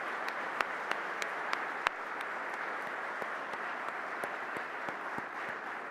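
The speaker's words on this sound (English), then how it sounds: "I think that deserves a round of applause" A university audience applauds steadily for several seconds, a dense wash of clapping heard from a moderate distance, with a few sharper individual claps standing out.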